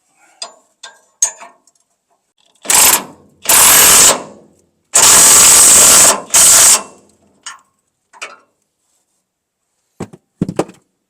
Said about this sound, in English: Gotta tighten up this bolt.